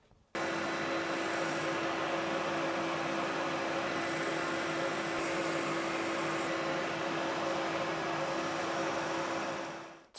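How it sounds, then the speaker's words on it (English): Abrasive paper rubs steadily against turned wood spinning on a lathe, a continuous hiss over the lathe's motor hum, with brief pauses as the sanding pressure shifts and no voices. "So now is the time to get this sanded."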